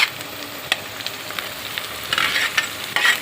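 Boiled pieces of yam (khandalu) hiss and sizzle in hot oil, a steady crackling fry with a few sharp spatters and stirring scrapes, close up and with no talking.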